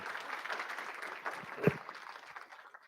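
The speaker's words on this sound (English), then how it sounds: "I will give Igor a big round of applause" Brief applause from a conference audience at a Python automation event, a soft, fairly distant patter of clapping that fades quickly, with one sharper knock partway through.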